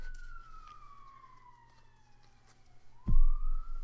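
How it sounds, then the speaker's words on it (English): An ambulance siren from a nearby dispatch center sweeps downward in a long wail, distant and faint at first, before a loud low rumbling burst near the end. "experienced drivers do not turn on their sirens until they hit the highway"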